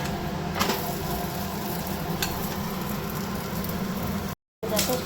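Aloo paratha frying in a pan gives a steady, close sizzle that runs almost the whole time, with a few faint scraping touches and a brief gap near the end.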